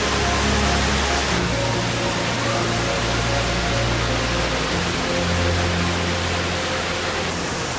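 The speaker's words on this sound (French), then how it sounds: "c'est une ambiance très particulière avec cette cascade" A waterfall in a cave gallery roars as a steady, dense wash of water noise that fills the space evenly and loudly from start to finish, with no voices.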